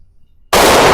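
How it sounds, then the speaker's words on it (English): After near silence, a single sudden, very loud blast from a gun fired at a shooting range slams in halfway through and stays harsh and overwhelming to the end. "Your first shot."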